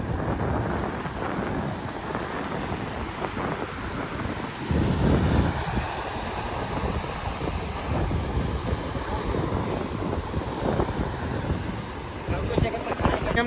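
Sea waves roar on the Mocha Ghed shore with a continuous rushing surf, buffeted by wind noise against the microphone, while faint voices may sound in the background.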